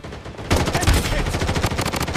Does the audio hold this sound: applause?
no